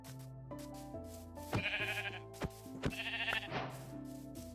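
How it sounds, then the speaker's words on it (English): Minecraft gray sheep bleat a few times over steady melodic background music, with soft sharp taps mixed in. "It's a gray sheep."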